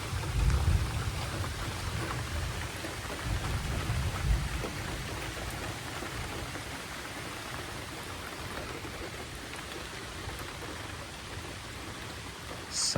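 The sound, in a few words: thunder during rainstorm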